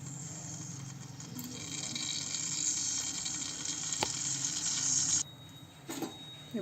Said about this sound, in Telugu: కుక్కర్ పెట్టుకొని నూనె కొద్దిగా పోసుకోవాలి